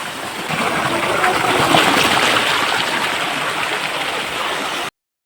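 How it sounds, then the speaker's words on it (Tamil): Steady, loud rush of water from the Kayilai waterfall, the sixth falls passed on a trek, a continuous broadband roar with no voices, ending abruptly. "இப்போ நம்ம ஒரு 6வது ஃபால்ஸ் பார்த்துட்ருக்கோம்."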